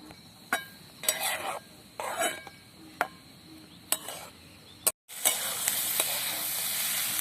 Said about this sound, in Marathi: आता हा कांदा थोडा वेळ असा तळून घ्यायचा आहे